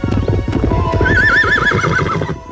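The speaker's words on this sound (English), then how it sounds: "The horse bucks and knocks Conan on his ass." A horse whinnies loudly with a wavering high cry over a busy rumble of hooves and movement, close and continuous for a couple of seconds.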